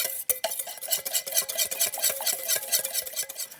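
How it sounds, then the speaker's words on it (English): A whisk rattles quickly and steadily against a bowl, mixing a glaze of vanilla and confectioner's swerve for Italian Christmas cookies, with close, continuous clinking strokes and no talking. "Now we're just gonna whisk this together, and it's gonna create this nice, yummy looking glaze."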